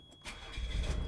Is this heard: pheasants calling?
no